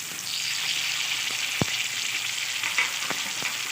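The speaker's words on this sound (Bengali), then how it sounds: "এবার আমি এতে অ্যাড করে দিচ্ছি পেস্ট করে রাখা সব মশলার উপকরণ।" Ground spice paste hits hot oil in a pan where green beans are being cooked, giving a continuous loud sizzle with a few soft clinks and scrapes of stirring.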